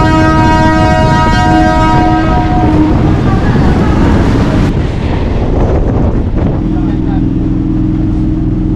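A train pulling out of platform 2 at Jirat railway station on the Sealdah line sounds a loud, sustained horn, followed by heavy, close rumbling and clattering wheels.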